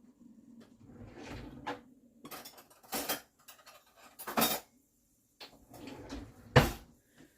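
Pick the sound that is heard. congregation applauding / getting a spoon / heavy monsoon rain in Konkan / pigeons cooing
getting a spoon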